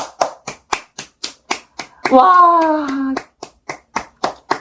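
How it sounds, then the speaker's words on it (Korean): A single person claps by hand in a steady rhythm, about a dozen sharp, close claps, interrupted midway by a brief drawn-out exclamation from a voice before the clapping resumes. "일단 박수 치고 시작할게요"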